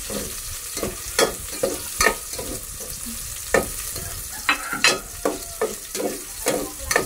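Meatballs and onions sizzle steadily in a hot pan while a utensil stirs and scrapes them in quick, irregular strokes, close and fairly loud.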